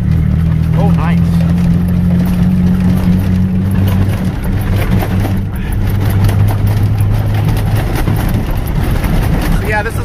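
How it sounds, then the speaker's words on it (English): Interior of a badly shaking Ford F-150 truck on the move, a loud steady engine drone and rattling cabin noise throughout, with people talking over it. "this is what it's like to ride in the F-150. Everything is shaking so bad."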